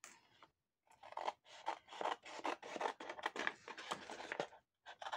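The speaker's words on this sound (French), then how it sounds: "on va couper. Alors, je vais prendre" Scissors cut through paper for a junk journal booklet, a close series of crisp rasping snips in quick succession after a brief pause, with no talking.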